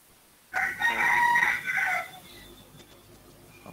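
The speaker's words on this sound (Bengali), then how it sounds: "মোরগের ডাক শুনতেছে অনেকদিন পর।" A large household rooster crows once, loud and close, a long drawn-out call lasting about a second and a half against a quiet room background.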